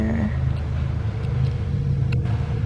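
A car drives by outside, a steady close engine rumble with a low drone lasting the whole moment, heard from inside or beside a road with no talk over it.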